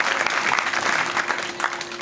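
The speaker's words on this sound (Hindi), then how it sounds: "ताली तो बजाना पड़ेगा भैया" Dense, continuous clapping from an audience at a Gondwana religious storytelling gathering (katha) in Mahua Kheda, Fatehpur, steady and fairly loud throughout with no speech over it.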